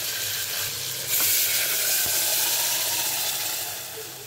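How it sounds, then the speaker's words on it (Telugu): Tempering spices sizzle and fry in hot oil for a brinjal curry, a loud continuous hiss that swells suddenly partway through, with faint stirring and no talking. "పోపు అయితే బాగా వేగిందండి"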